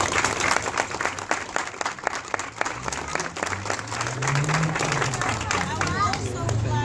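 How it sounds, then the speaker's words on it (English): Audience applause at a grand opening ceremony: a sustained burst of many hands clapping, dense and fairly close, with crowd murmur and a voice talking underneath as it continues. "So if you can help me give a big round of applause to Ms."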